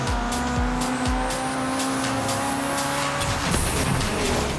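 A race car in Forza Horizon 3 revs hard and accelerates, its engine note climbing and shifting through gears, with tire squeal and loud close engine roar throughout.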